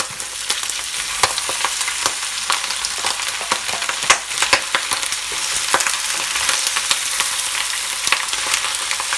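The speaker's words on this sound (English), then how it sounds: "Now I'm adding the pork" Pork and garlic fry loudly in a pan with shiitake mushrooms, a steady dense crackling sizzle with scraping stirs throughout, close and continuous with no talking.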